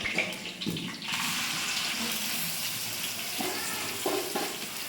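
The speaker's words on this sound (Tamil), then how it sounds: "வெங்காயம் நல்லா ப்ரௌன் கலர் ஆகிறத வதங்கணும்" Sliced onions frying in oil for a chicken oil roast, heard as a steady, close sizzle and crackle that swells after the onions go in, with faint stirring scrapes and no talk.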